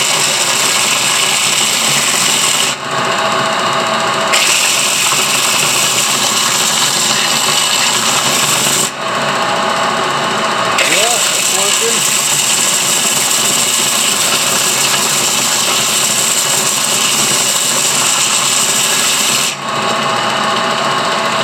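Rough 36 grit abrasive grinds a fossil shark from Lebanon with a loud, continuous buzzing rasp, broken by a few brief pauses before resuming.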